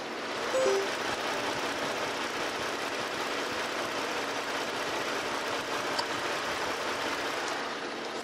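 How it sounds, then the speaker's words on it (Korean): A Ford Taurus 3.5 Limited with low mileage idles steadily, a smooth, even engine hum held close and constant with no talk over it. "바로 엔진 소리 한번 들려드릴게요."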